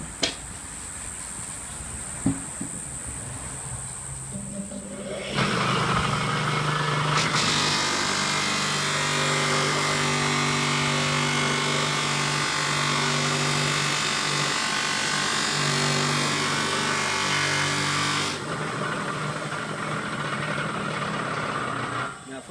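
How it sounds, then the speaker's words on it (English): A bench grinder fitted with polishing wheels for aluminium motorcycle parts spins up after a quiet start, holding a steady high whine for about thirteen seconds, then winds down and falls away. "I've got a bench grinder there, which I've got all my polishing stuff on"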